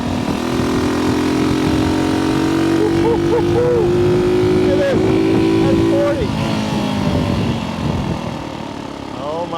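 A vintage 1964 Honda C200 motorcycle engine drones steadily as it revs up while riding, its pitch climbing slowly, close and loud, with someone talking over it.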